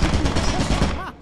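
A dense, loud rattle of rapid turret fire in Lethal Company fills a brief moment up close, continuous and harsh, with a shout breaking through near the end.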